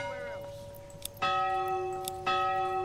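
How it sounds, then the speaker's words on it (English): A church bell in the medieval city-building game Manor Lords strikes twice, each clear metallic toll ringing out and sustaining, with a fading earlier tone at the start. "change the bell sound."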